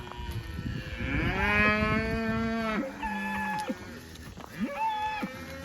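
Several cattle in a mob grazing a pond dam moo in long, drawn-out calls, one after another, with overlapping lows from the nearby herd and no talking.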